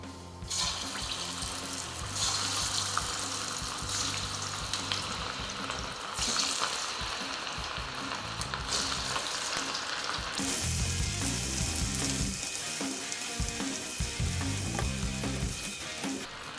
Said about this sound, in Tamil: எண்ணெய் சூடாயிடுச்சு, இப்போ பொரிச்சு எடுத்துக்கலாம்.